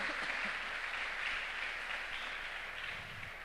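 A church congregation applauds the Lord during a Spanish-language sermon, steady dense clapping filling the room throughout, with no talk over it.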